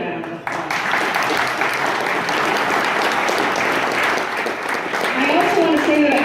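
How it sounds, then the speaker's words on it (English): Audience at a county Republican Reagan Day event breaks into sustained applause, steady clapping from a full room with a few voices mixed in. "So let's give them a round of applause."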